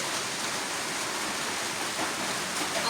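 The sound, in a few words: rain falling in a village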